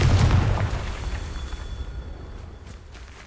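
A Confringo fire spell explodes in the Hogwarts Legacy video game, a loud booming burst at the start that rumbles and fades away over a few seconds.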